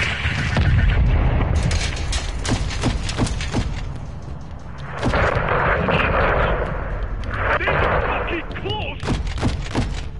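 Repeated sharp gunshots and heavy booming explosions in a PS4 shooter game, some rapid and clustered, others spaced apart, with people talking over the battle noise.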